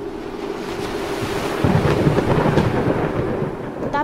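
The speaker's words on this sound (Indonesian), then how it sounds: "Badai menghantam kapal Ujang." A storm sound effect of thunder striking a ship: roaring wind and surging sea fill the clip, with a heavier rumbling swell about midway and no voices.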